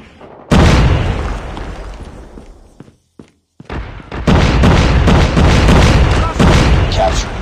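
Frag grenade blast in the mobile shooter Call of Duty Mobile, one loud close boom that rings out and fades, followed after a brief silence by dense gunfire, other bursts and game voice lines.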